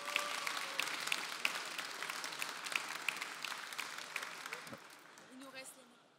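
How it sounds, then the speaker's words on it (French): A crowd applauds steadily, dense clapping filling the space, then gradually thinning and fading out near the end. "Vous pouvez les applaudir encore très très fort"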